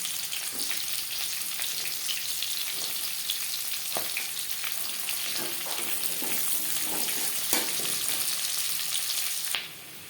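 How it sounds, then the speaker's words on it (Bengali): Sliced onions fry in oil in a kadai with a dense, steady sizzle and a few scattered stirring clicks, continuous until it drops off sharply near the end. "পাকোড়া ভেজে নেওয়া কড়াইতে আবারও তেল দিয়েছি দিয়ে দেবো পেঁয়াজ পেঁয়াজ আমি স্লাইস করে কেটে নিয়েছি"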